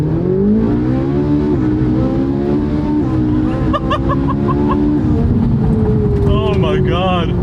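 A Ferrari 458 Italia with a naturally aspirated 562-horsepower V8 accelerates hard in race mode: a loud, rising engine wail climbing through gears with brief shift breaks, heard from inside, with excited talk over it.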